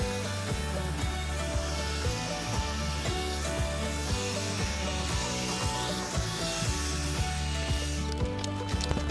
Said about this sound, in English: you can use a fork or a spade to mix this in, but it's heaps easier with a power planter